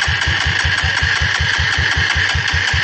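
A motorcycle engine turns over on its starter at an off-road hard enduro riding site, a steady rapid low pulsing with a constant whir above it, loud and close, with no voices.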